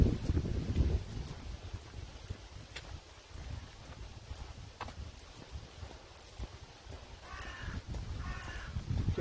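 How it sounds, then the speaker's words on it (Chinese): Crows caw a few times toward the end, fairly distant, over steady outdoor wind and rustle during an early-morning walk beside a river. "听到乌鸦叫了"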